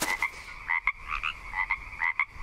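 A cane toad in the jungle survival game Green Hell croaks in a steady series of short, bright calls, repeated in quick pairs with brief pauses, loud and close.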